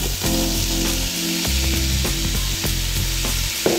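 Vegetables sweating in a pan for osso buco give a loud, steady sizzle throughout, with a few soft scrapes of a utensil, no voices.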